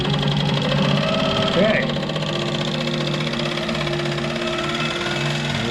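A sewing machine stitches a seahorse quilt, running in a steady mechanical patter for the whole stretch while people talk over it close by.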